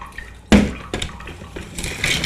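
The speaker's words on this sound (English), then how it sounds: "And with this one here, you can just drain your water right off of it." Water pours off and drains from a salad spinner in a kitchen, with a sharp knock at the start and then splashing, gurgling runoff at close range.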